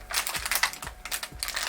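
A keyboard is handled inside crinkly plastic wrapping, giving close, quick rustling and crackling with a few soft thuds.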